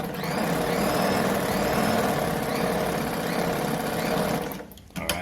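A Brother model 345 sewing machine stitching at a reduced stitch length runs with a fast, steady mechanical whir close by, then stops near the end with a few small clicks.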